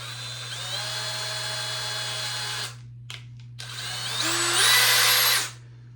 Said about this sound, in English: I'm gonna hold it in place and drill my holes, just like the other one.